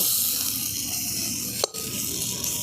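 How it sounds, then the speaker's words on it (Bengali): Vegetables for gadal leaf curry fry in a pan with a steady close sizzle and hiss, broken by a single brief clink near the middle. "এগুলোকে আমি এবার একটু ভালো করে ভেজে নেব"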